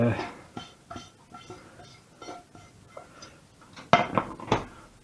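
A non-stick frying pan is handled on a kitchen hob, giving a series of short metallic knocks and clinks at irregular intervals, with two sharper, louder clanks near the end.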